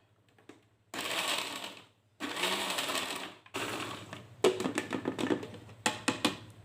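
A blender grinds spice paste for a green bean and tofu coconut-milk dish, running in loud bursts of whirring broken by short pauses, with rattling pulses near the end.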